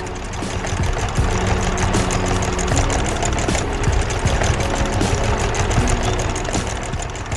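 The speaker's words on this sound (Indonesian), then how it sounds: "Traktor kuning sedang bekerja keras di ladang yang sudah dibajak" A yellow tractor works a plowed field, its engine running with a loud, steady idling rumble and rhythmic knocking pulses throughout.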